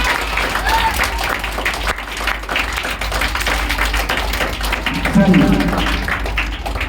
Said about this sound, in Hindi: केक के लिए तो आप लोग ताली बहुत जोर से मारे हैं